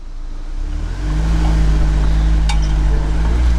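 An off-road car stuck in the ground revs its engine hard in a steady, loud, sustained drone, rising after a quieter first second, with a brief metallic clink partway through.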